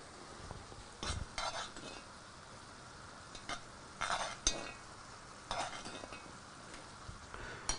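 Onions cooking down and caramelizing in a pan, a faint low sizzle broken by several short bursts of spoon stirring and scraping against the pan.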